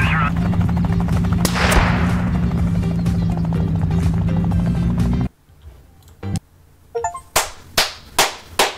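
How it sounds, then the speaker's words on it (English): Helicopter in the video game Thief Simulator 2, a loud continuous rotor drone for several seconds that cuts off abruptly, followed by a series of sharp, punchy thuds. "A helicopter is crazy."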